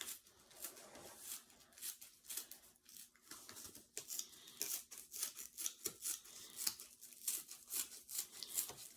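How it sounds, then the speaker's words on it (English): Scissors snipping repeatedly in quick, irregular cuts, faint and close, with soft rubbing between the snips and no talk. "Might need to try and use these scissors some more."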